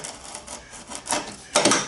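Scraping strokes of a blade scoring a fiberglassed boat panel on a table, a few short rasping passes, the last ones louder and close.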